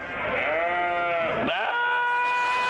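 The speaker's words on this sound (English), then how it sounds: "The sheep on the right sarcastically mocks the noise his friend makes." A long, wavering sheep bleat, loud and close, dipping briefly in pitch midway before holding steady to the end.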